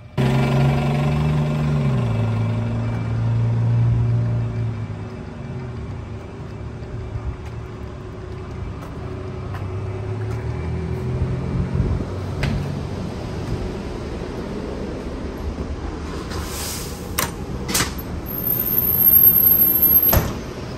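A city bus engine rumbles and idles as the vehicle heads back to the yard, a loud low drone shifting in pitch, with doors hissing and clunking near the end.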